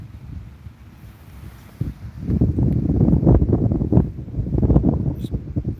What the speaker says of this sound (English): Really windy out today.